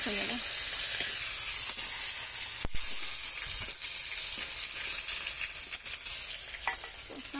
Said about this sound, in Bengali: তারপর দিয়ে দেবো টমেটো কষে নেব কষা